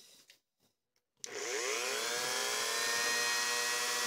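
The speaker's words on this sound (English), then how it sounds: "Another way is you can get yourself one of these, a Dremel." Dremel rotary tool with a ball bit starts up with a sharp whine after a brief quiet, then runs steadily at high speed while carving a rustication pattern, loud and close with no talk.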